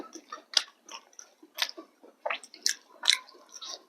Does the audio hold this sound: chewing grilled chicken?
yes